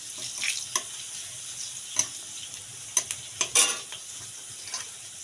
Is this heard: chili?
yes